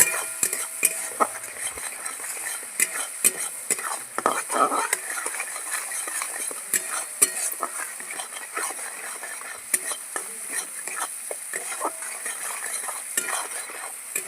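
Poppy seed paste frying in oil with salt and turmeric, a soft, continuous sizzle under frequent scraping stirs and occasional light clinks of a metal spoon against the pan.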